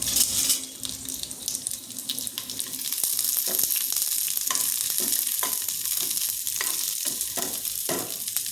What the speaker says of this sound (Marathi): या तेलामध्ये एक खोबरं, आलं, हिरवी मिरची आणि लसूण परतून घ्यायचं.